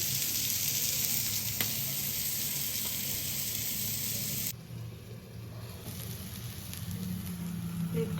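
Tandoori pieces sizzle in a pan in a home kitchen, a steady hiss of hot oil that quiets partway through, then continues softly.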